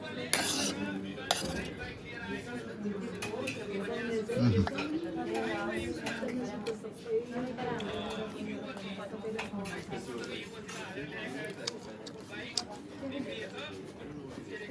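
A spoon and cutlery clink and scrape against a plate during a meal, with scattered light metallic taps running under ongoing conversation.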